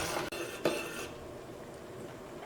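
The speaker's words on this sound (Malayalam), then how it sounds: "നമുക്ക് ഇതിങ്ങനെ നിർത്താണ്ട് ഇങ്ങനെ ഇളക്കിക്കൊണ്ടിരിക്കണം." A spoon scrapes and clinks against a pot of boiling milk for custard, with two sharp metallic knocks early on, then a softer steady stir under low kitchen background noise.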